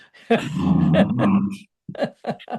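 A dog in the background makes a long, growly whining noise, then several short yips and whimpers close to the microphone, with no talk over it.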